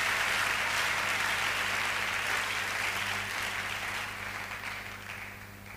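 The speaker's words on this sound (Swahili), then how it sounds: "Kama tuko sawa, tumpike sisi sote makofi Bwana." Sunday church congregation clapping together, a full continuous wash of applause that gradually fades toward the end, with no talking over it.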